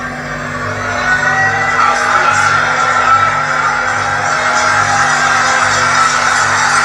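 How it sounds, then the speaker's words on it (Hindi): Kenyan members of parliament standing and applauding in their chamber in support of the president, a dense wash of clapping and raised voices with cheering that holds steady and loud throughout, over a low steady hum. "देखिए अडानी के करार को रद्द करने के बाद वहाँ के राष्ट्रपति के पक्ष में वहाँ के सांसद खड़े होकर के तालियां बजा रहे हैं।"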